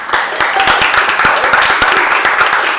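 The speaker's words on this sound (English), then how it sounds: "Clap it up for yourselves." Loud, close clapping from a small audience at a New Zealand and Australian wine tasting in New York City, with sharp individual claps over a continuous bed of applause and a few voices.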